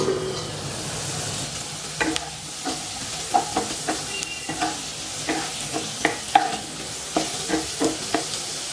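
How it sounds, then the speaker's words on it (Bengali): Potatoes frying in oil in a covered pan, a steady close sizzle and hiss with irregular light clicks and pops throughout, no one speaking. "এবার আলুটাকে একটা ঢাকনা চাপা দিয়ে 2 থেকে 3 মিনিট লাল করে ভেজে নিচ্ছি"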